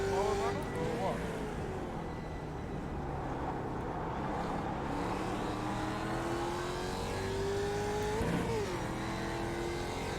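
A Mazda MX-5 Miata race car engine drones steadily on track, its pitch climbing slowly then dipping with a shift, loud and continuous from inside the car, with faint talk mixed in.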